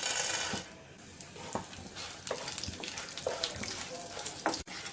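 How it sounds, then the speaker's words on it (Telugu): Tempering spices (popu) crackle and sizzle in hot oil in a pan on the stove, a steady frying hiss with scattered pops and small sputters, fairly close and moderate in level with no talk. "నూనె కొంచెం వేడైన తర్వాత పోపు దినుసులను వేసి వేయించుకోవాలి."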